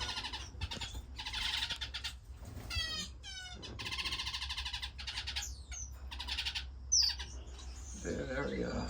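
Finches in an indoor bird room, a busy mix of chirps, tweets and trilled calls from several birds close by, coming in bursts with short pauses between.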